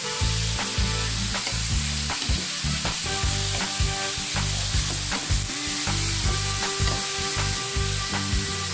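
Chili and garlic being stir-fried for beef kaprao, a constant loud sizzle with rhythmic scraping and clanking of a spatula against the pan, no voices.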